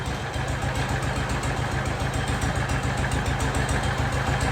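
An old cast iron Kohler 301 engine idles on a Jacobsen Chief 1200 garden tractor, a steady, loud, close chugging with a fast even beat and no break throughout.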